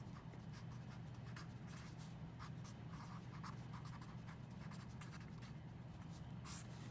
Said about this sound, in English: I think I'm just going to draw that here on my paper to remind me.